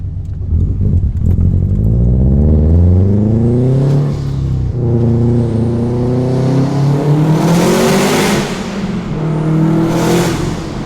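A 2020 C8 Corvette engine revving loudly and close, repeated rising pulls with brief dips between them and sharp bursts of whooshing high-pitched noise near the peaks.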